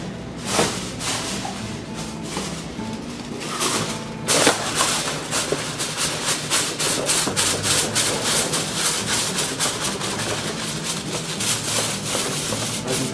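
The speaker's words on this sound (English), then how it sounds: "Got to wrap it with 2 levels of aluminum foil." Aluminum foil is wrapped tightly around a prepared beef tenderloin, giving continuous loud crinkling and rustling with sharper crackles throughout.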